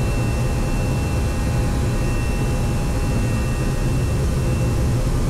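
Steady broadband roar of airplane cabin noise in flight at cruise speed, a loud, even jet-engine rush with a low rumble and no pauses.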